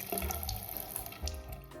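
A bathroom sink faucet runs in a slow, steady stream of water, continuous and close by, with no talk.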